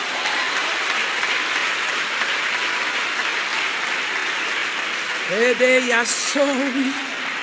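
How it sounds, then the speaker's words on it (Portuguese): A church congregation applauds together in a dense, steady wash of clapping that fills the room, and a voice begins speaking over the last couple of seconds. "Você pode aplaudir ao Senhor?"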